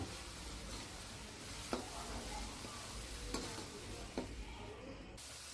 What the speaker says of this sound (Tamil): இஞ்சி பூண்டு பேஸ்ட்டை வந்து இதில் சேர்த்து அந்த பச்சை வாசனை போகிற வரைக்கும் நல்லா வதக்கிக்கோங்க